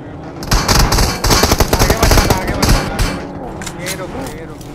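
Loud automatic gunfire in the battle royale game BGMI, several close bursts rattling in quick succession before tapering off, with voices talking over the shooting.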